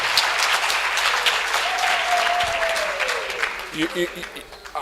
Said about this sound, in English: And you deserve a great hand of applause from yourself.